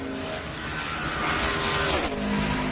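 NASCAR Nationwide stock car running qualifying laps, a loud sustained engine roar that builds as the car closes in, then drops sharply in pitch as it passes by.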